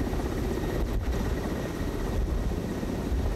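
A high-altitude helicopter flying over the Andes mountains fills the scene with a dense, continuous rotor and engine roar, steady and close, heard from inside the cabin.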